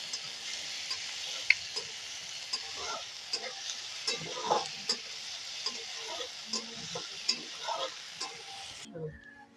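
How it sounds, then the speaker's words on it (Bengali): Chopped onion stirred and fried in a pan for restaurant-style dal fry: a steady close sizzle with repeated soft spatula scrapes and taps throughout, no voices. "এর মধ্যে দিয়ে দেব এখন একটু পেঁয়াজ কুচি, নাড়াচাড়া করে নেব, একটু লাল লাল করে ভেজে নেব"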